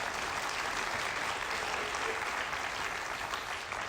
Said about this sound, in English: let's give Neil a huge round of applause